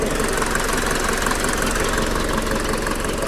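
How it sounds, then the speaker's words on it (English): A warm Mercedes W201 190D diesel engine idles up close, a loud, steady rapid clatter of diesel knocking with a constant mechanical hum and no pauses. "So the car has been idling now for quite some time, and the engine is warm, obviously."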